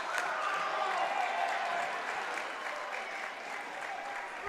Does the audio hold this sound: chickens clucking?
no